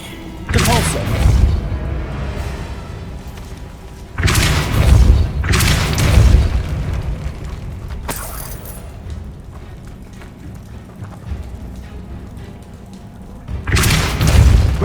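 Heavy booming spell blasts from the Depulso force spell in Hogwarts Legacy, rising in loud surges with thuds and mechanical clatter between them, several blasts across a noisy game scene.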